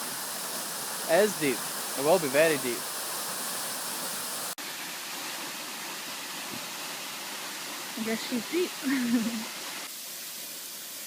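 A waterfall at a beach pours steadily as a constant broadband roar filling the whole scene, with people talking briefly over it near the start and again toward the end.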